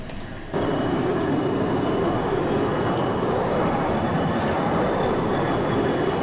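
Aircraft engine at full throttle on takeoff in Arma 2, a steady loud roar that jumps up after a brief quieter start and holds level throughout.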